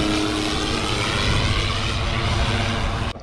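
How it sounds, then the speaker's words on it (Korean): An airplane descends overhead near a city road in Colombia, its loud, steady engine roar filling the whole stretch before cutting off abruptly at the end. "뭐야, 비행기 내려온다."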